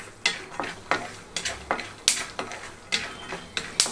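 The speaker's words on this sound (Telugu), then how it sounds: "ఇక్కడ మనకి పల్లి అనేది చక్కగా ఫ్రై అయిపోవాలండి" Peanuts dry-frying and stirred in a pan for palli chutney, regular scraping and rattling strokes about twice a second, close and crisp, with a faint sizzle beneath.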